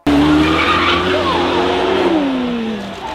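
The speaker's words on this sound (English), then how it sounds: "This is the 4-liter flat plane crank V8 that was in the Merc AMG Black Series" A 4-liter flat-plane-crank V8 in a 1064 hp Aston Martin Valhalla, the engine shared with the Mercedes-AMG Black Series, sounds loud and close with a sustained rising-then-falling engine note and a tire-squeal edge for about three seconds.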